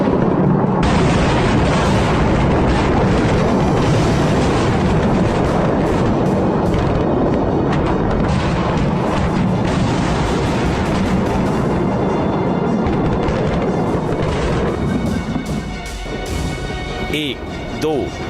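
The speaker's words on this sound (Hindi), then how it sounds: "धमाकों पर धमाके हो रहे हैं" Continuous barrage of bomb explosions over Beirut, loud dense rumbling booms and blasts running nearly nonstop, with voices talking over the din throughout.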